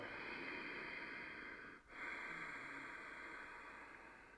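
Steady, hushed nasal breathing with the mouth closed, as in a yogic breathing practice, close and continuous with one brief pause between breaths.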